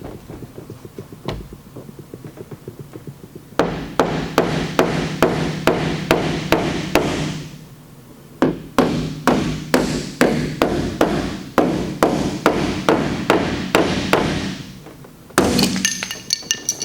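Hammer taps knock down high spots on a Toyota RAV4 liftgate during a glue-pull dent repair, sounding as two long runs of loud, evenly spaced metallic strikes separated by brief pauses, with a final cluster of sharper hits.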